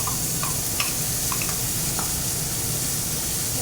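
Tomato, green chili and ginger paste sizzling in a pan beside fried brinjal for an ilish fish curry, a steady loud frying hiss with a few light stirring clicks.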